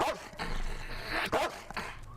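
A trained pet dog barks on command, several short close barks spaced out across a couple of seconds in an indoor training session, with faint movement between them and no talking.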